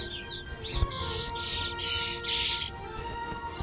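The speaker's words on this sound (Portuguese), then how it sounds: "Os pássaros estão atuando aqui na arena." Birds chirp and squawk in an open-air theatre arena, with several bright calls repeating in quick succession over a steady ambient hum.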